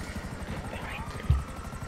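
A helicopter in the video game GTA Online hovers near a rooftop, its steady, fairly loud rotor chop pulsing throughout with a brief low thump near the end.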